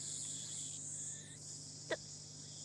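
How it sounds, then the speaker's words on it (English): A steady high cicada drone hangs throughout, a constant shrill buzz with a brief sharp click near the end, in a radio play. "The only sound is the chirping of cicadas."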